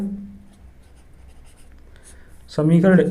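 An equation is being written by hand during a 10th-grade math lesson on linear equations, with faint scratchy strokes at first, then a teacher's voice taking over near the end.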